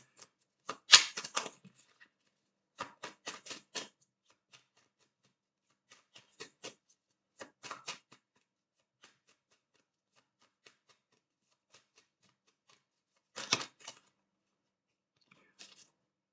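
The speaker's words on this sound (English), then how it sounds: "I just cannot stop shuffling." Quiet bursts of riffling and flicking card sounds come in short clusters separated by near silence, close and soft.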